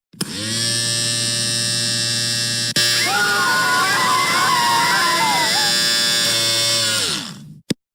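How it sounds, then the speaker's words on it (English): Electric shaver buzzing while shaving hair off heads, a loud close steady whine with a strong droning hum that wavers and shifts pitch midway, then cuts off abruptly at the end. "we are shaving your hairs off very hard right now"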